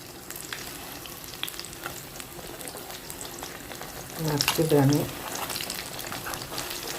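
Food frying in hot oil and being turned over, a low steady sizzle with a louder bubbling surge in the middle, a voice faintly audible beneath it.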